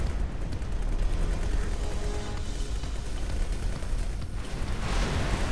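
Explosion in the space game X4 Foundations, a dense roaring rumble sustained through several seconds, loud and broadband with crackling texture and no clear break.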